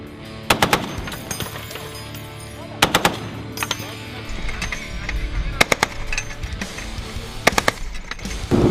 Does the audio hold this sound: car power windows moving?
no